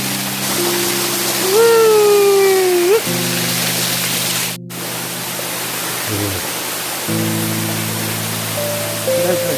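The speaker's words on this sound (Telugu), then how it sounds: "చూడండి starting Raikal water falls starting water ఇక్కడ నుంచి వస్తుంది" Water rushing at the source of Raikal waterfall near Warangal: a steady, broad hiss of flowing water throughout, with faint tonal hums and whistles drifting over it and a brief dropout midway.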